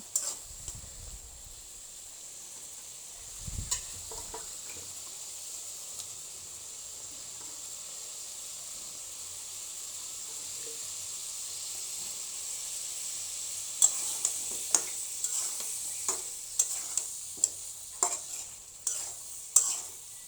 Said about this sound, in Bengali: এখন দিয়ে দিব টমেটো আলু, কষিয়ে নেব।